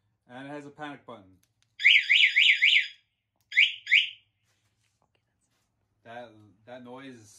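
A kids' 110cc ATV's panic alarm chirps shrilly in short warbling bursts, a rapid run then two quick pulses, between brief stretches of someone talking nearby.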